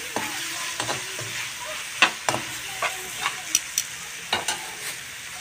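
Chicken biryani ingredients with chili sauce are stirred in a frying pan, soft sizzling under a series of distinct spoon scrapes and knocks against the pan at an irregular rhythm.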